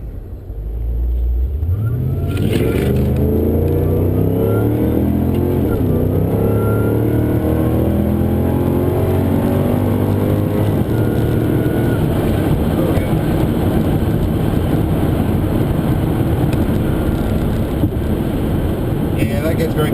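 A VE Commodore ute with a 4L80 automatic transmission and a high-stall converter accelerates hard and close, its engine note climbing and dropping through several rising gear shifts into a sustained loud roar.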